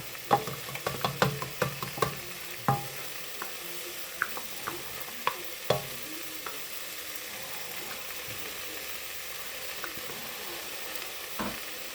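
Garlic sizzles in a frying pan as it is stirred, with sharp clicks and scrapes of the utensil against the pan standing out near and clear over a soft, steady frying hiss, busiest early and thinning out later.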